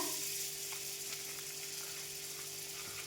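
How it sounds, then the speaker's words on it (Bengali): Marinated food fries in butter with a soft, even sizzle that runs unbroken and fairly quiet throughout, with no voices. "এবার এটাকে বাটার দিয়ে ভাজছি এর মধ্যে বাটার দিয়ে দিলাম"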